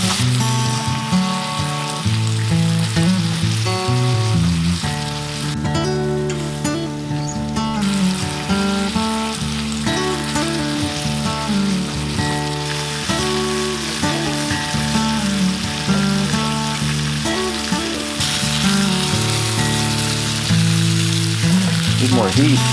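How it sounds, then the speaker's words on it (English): Fish frying in ghee in a warped frying pan over heat at an off-grid log cabin, a steady, loud, close sizzle and crackle that continues without a break throughout. "Put the fishes in the ghee."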